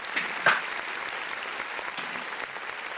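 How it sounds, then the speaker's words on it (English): Modest round of applause, thin and fairly quiet, a few scattered claps building to a brief peak early then holding steady, heard during a gaming podcast. "Round of applause for Mario Kart"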